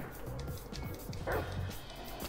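A dog in GTA 5 barks and yips in short quick bursts, close and fairly faint, with some game noise behind it.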